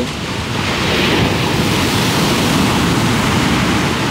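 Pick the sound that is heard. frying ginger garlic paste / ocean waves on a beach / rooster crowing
ocean waves on a beach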